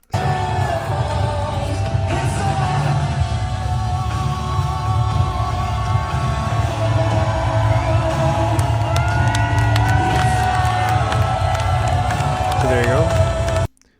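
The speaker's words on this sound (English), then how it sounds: "There's Poilievre and family waving and clapping." A political rally crowd for Poilievre cheers and claps steadily and loudly throughout, with whoops and yells rising above the dense applause, and voices mixed into the din.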